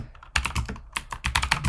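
Rapid typing on a computer keyboard while a QA test case title is entered, with dense irregular key clacks in bursts that stay close and fairly loud, and no voices.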